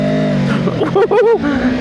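A QJMOTOR SRV600V motorcycle revs hard toward 10,000 rpm under acceleration, its loud engine note rising and sweeping upward in pitch, with a rider's voice over it.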